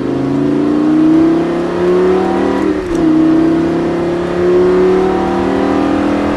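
A Lamborghini Gallardo engine on a racetrack pulls strongly under acceleration, its loud droning tone rising steadily, dipping briefly at a shift and then climbing again, close and continuous.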